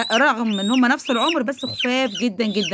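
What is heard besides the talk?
hens clucking and calling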